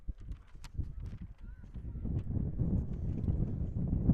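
Gusty wind buffeting the microphone at an outdoor high school baseball game, a low rumble that rises and falls and grows stronger toward the end, with faint crowd and background noises.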